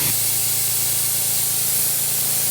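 A loud, steady hiss of a sanitizing spray machine blasting continuously throughout, with a low mechanical hum underneath.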